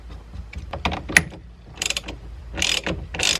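A ratchet tightening the 21mm steering wheel hub bolt on an NA Miata, with a few bursts of quick clicking separated by pauses, close and fairly loud.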